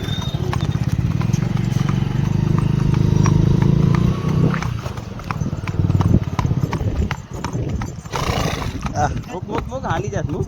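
A horse on a farm during a comedy shoot, hooves clip-clopping in a steady rhythm with snorts and a whinny, while people talk and call out nearby.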